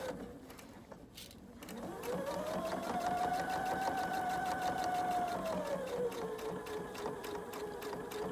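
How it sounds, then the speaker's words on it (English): A sewing machine stitches a back pocket onto pajama pants, starting after a brief pause and then running in a steady, continuous whir at close range for several seconds before easing slightly. "I'm going to sew up to the top of the pocket"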